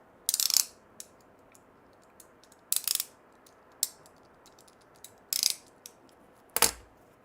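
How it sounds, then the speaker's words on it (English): Short mechanical ratcheting bursts, five or six quick clicking runs spaced about a second apart, fairly close and alone with no talk. "Oh, do you mean the ratcheting sound?"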